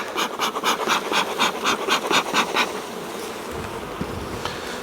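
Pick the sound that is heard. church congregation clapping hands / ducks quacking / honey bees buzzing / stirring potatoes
honey bees buzzing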